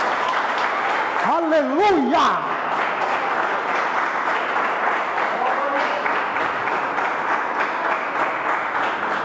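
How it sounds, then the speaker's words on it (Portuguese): A church congregation applauding during a sermon, a dense, continuous wash of clapping and crowd noise that fills the room, with a single voice calling out briefly near the start. "Quem crê, aplauda Jesus bem forte."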